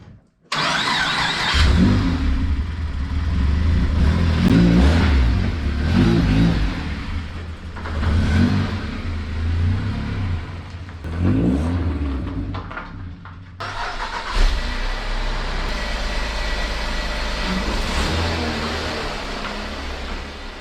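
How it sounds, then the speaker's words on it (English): Car engines start and rev as vehicles are driven out of a garage and off the driveway, loud and close, with surges, a brief drop, then a second engine running steadily. "I'm going to go ahead and move the vehicles out of the garage and out of the driveway"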